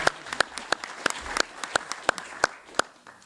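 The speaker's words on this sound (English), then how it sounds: "let's also give a big round of applause to Dr. De Campos" Graduation ceremony audience applause: a handful of distinct claps in loose rhythm, moderately near and fairly sparse, fading toward the end.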